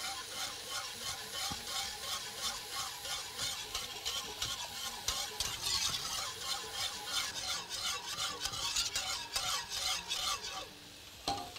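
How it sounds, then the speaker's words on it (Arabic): Meat cooked with kashk being stirred firmly in a pot, a quick repeated scraping and rubbing rhythm of the utensil against the pot with a soft sizzle underneath, close and continuous, easing off near the end. "نقلب كويس قوي"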